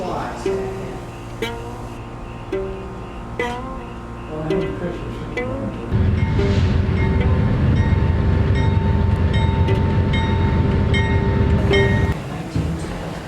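A train rumbles and clanks as it pulls away, a loud steady roar building midway and fading near the end, with scattered clicks and a voice earlier.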